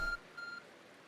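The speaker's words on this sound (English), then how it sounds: "Your arc phone is beeping." The Arc Phone in Pokemon Legends: Arceus gives a brief electronic beep, a short bright tone at the start followed by a softer, shorter repeat, heard alone.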